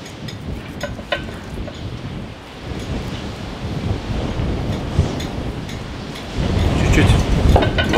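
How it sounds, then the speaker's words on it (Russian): Strong wind roars and gusts steadily against the microphone, growing louder toward the end, with rumbling buffeting throughout. "А то такой ветер все сдувает"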